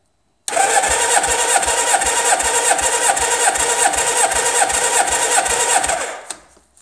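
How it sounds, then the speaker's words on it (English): A motorcycle engine cranks on its electric starter with the throttle held wide open during a compression test, turning over in a steady, rapid rhythm for about five and a half seconds before the starter stops, loud and close with no talk. "You want wide open throttle when you're pressing the starter button"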